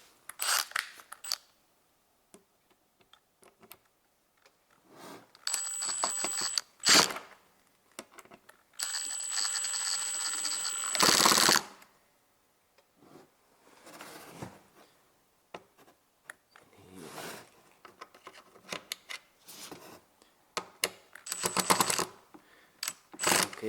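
A screwdriver works screws out of a Toyota Prius dashboard in short bursts of clicking and ratcheting, metallic scraping and a few longer whirring stretches, with quiet gaps between.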